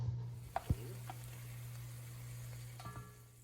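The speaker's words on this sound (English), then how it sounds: "So the first step is to cook off the bacon." Bacon pieces frying in a pan ahead of searing venison: a low steady sizzle with a constant hum underneath, broken by a few sharp clanks of a utensil against the pan near the start and again toward the end.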